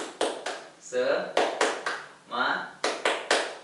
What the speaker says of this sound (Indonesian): Ya, seperti ini tepuk semangat.